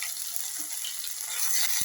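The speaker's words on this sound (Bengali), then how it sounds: "ফ্রাই প্যানে তেল দিয়ে দিয়েছি, এর মধ্যে গোটা গরম মশলা, জিরে, তেজপাতা একসাথে ফোড়ন দিয়ে দিলাম" Whole garam masala, cumin seeds and bay leaf dropped into hot oil in a frying pan; a steady, close, soft hiss of sizzling that holds for a couple of seconds.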